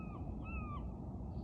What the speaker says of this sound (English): It's like 6:45 in the morning and all the birds are out, of course.